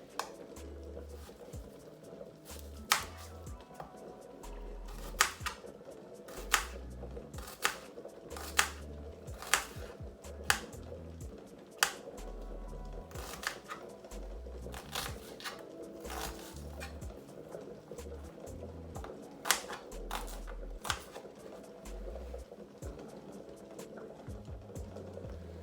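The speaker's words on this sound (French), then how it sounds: "Je vais découper mes oignons." Onions sliced with a knife on a board while preparing a potato salad, giving a steady run of soft, close taps and chops, some sharper clicks standing out, against a low background hum.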